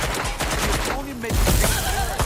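Rapid gunfire in the video game Watch Dogs: Legion, a dense burst of shots under and between speech, loud and close throughout.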